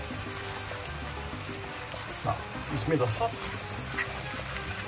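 Masala frying in a pan, a continuous soft sizzle with a few stirring scrapes, heard beneath someone speaking Dutch.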